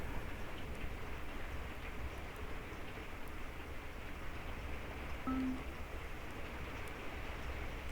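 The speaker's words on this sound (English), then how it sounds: "And it's still raining really heavily." Steady, heavy rain in the racing video game Forza Motorsport 2 hisses continuously with no break, a dense wash of drops with no voices.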